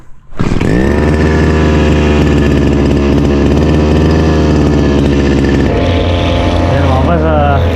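A brush cutter's small two-stroke engine catches almost immediately and runs loud and steady, its buzzing drone holding close and continuous before shifting pitch near the end, with no talk over it.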